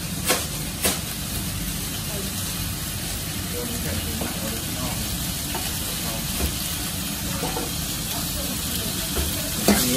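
Red curry paste being stir-fried in a Thai street-food style kitchen, a steady close sizzle and hiss with scraping stirs throughout, a voice talking faintly underneath.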